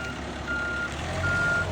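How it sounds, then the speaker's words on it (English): Reversing beeps from a concrete conveyor truck at a residential pole barn house build: two long steady electronic tones sound in turn over a low diesel engine rumble, fairly close and loud. "This is a conveyor truck,"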